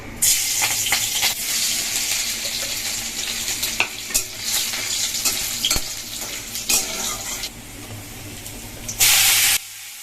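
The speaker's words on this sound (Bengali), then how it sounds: "এই ফার্স্ট টাইম তোমরা দেখতে পাচ্ছ কাঁচা লঙ্কা দিয়ে আমি শাক রান্না করবো" Greens cooking with green chillies in a hot pan, a steady loud sizzle and hiss of frying with occasional stirring scrapes throughout, ending in a sudden brief burst of louder spitting.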